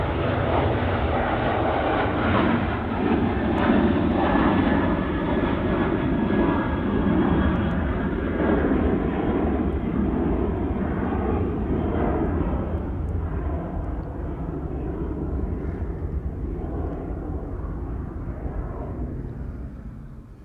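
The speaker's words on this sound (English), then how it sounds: "That was a 737-900." A Boeing 737-900 jet at Manchester Airport thunders close by, its engines giving a loud, broad roar that holds steady for around twenty seconds before slowly easing off.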